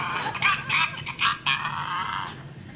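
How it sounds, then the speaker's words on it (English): A chicken clucks in short bright bursts, several pulses over a couple of seconds at moderate loudness with a faint low hum beneath, heard aboard a ship at sea. "Sounds to me like a chicken."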